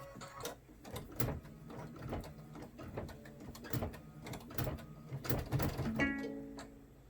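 A Brother Luminaire embroidery machine stitches with quick, uneven mechanical clicks and thumps, quiet and close, with a short electronic tone near the end.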